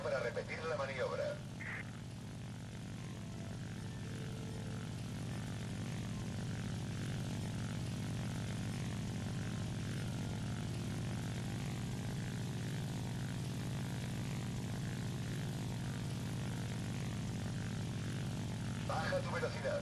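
Propeller airplane engine in the War Thunder video game, a steady loud drone held throughout while landing on an aircraft carrier, with brief bursts of speech at the start and end.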